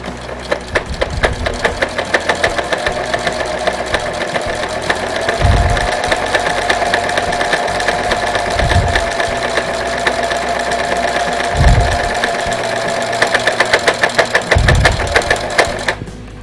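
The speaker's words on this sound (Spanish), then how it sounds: "Esa es la manera que tenemos para bordar los bigoticos" A sewing machine stitches Hello Kitty whiskers onto a cushion, running as a steady close mechanical whir with a fast rhythmic needle chatter. Periodic low thumps break in every few seconds, and there is no talking.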